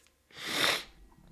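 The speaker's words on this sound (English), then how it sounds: "Sorry, guys, I have to sneeze." A single close sneeze bursts out over about half a second, loud and breathy, then fades into quiet room tone.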